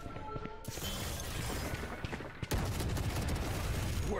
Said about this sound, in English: The whole squad is running LMGs.